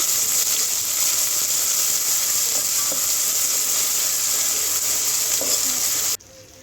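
Ginger garlic paste frying in a pan, a steady loud sizzle with faint stirring scrapes, continuous until it stops suddenly near the end.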